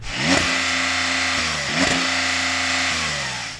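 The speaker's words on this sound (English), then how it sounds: "Let's have a listen, Rory, to your flat 6." A Porsche flat-six engine revs hard twice in quick bursts, each climb settling back to a steady, throaty idle, close and loud with no voices.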